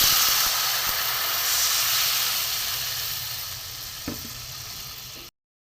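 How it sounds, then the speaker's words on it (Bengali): Water poured into a pan of frying spices with grated ginger and salt sets off a loud, steady sizzling hiss that slowly fades over several seconds, heard alone with no talking. "এতে জল দিয়ে দেবো।"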